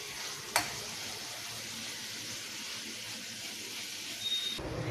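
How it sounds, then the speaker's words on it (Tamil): Grated raw mango sautéing in a pan for mango thokku, a steady close sizzle and hiss with light stirring scrapes, one brief clink near the start, no talking. "அதனால் ஒரு 3 மினிட்ஸுக்கு நம்ம இந்த மாதிரி வதக்கி விட்டுக்கலாம்"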